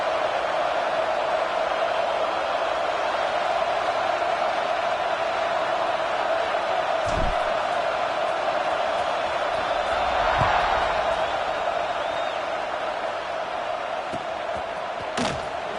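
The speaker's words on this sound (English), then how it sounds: "this crowd is feeling themselves after that last drive" Football stadium crowd roaring before a kickoff against Bama, a dense, steady wall of cheering and noise that holds throughout, with a few sharp thuds standing out.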